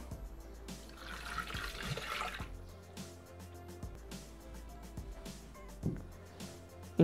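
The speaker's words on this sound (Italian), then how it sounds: "Versiamo l'acqua." Water pours into a Thermomix bowl holding sugar, a close, splashing rush that is strongest early, then trails off into quieter trickling and small kitchen knocks.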